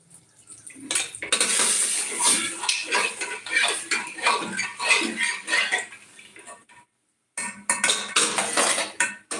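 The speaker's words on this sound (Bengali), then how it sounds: "এখানে আমি এবার ডালটা দিয়ে দেবো" Kalai (biuli) lentils tipped into a pan of hot tempering, giving a busy clatter of metal utensils and sizzle with scraping stirs. It runs steadily, stops briefly, then resumes near and fairly loud.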